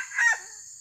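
A red junglefowl rooster gives one short, close crow over a steady high buzzing in the background.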